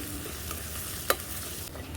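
Chopped onions and crushed garlic frying in oil for a goat trotters dish make a soft, steady sizzle, with a couple of brief stirring clinks and a sharper clatter at the very end.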